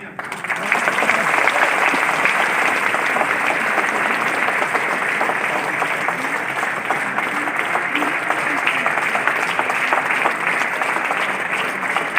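An audience at an NSTI Ludhiana program claps loudly and steadily for about twelve seconds, a dense and continuous sound of many hands without a break.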